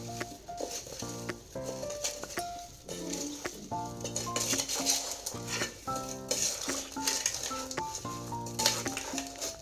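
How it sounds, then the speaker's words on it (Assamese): Mango pieces are mixed with salt for pickle, a spoon stirring and clinking against a bowl in repeated close scrapes while background music plays throughout. "এতিয়া এইখিনি ভালদৰে লৰাই ল'ম, যাতে প্ৰতিটো টুকুৰাতে এই নিমখখিনি ধুনীয়াকৈ সোমাই যায়"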